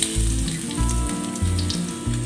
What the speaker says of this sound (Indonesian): setelah minyak panas kita masukkan bawang putih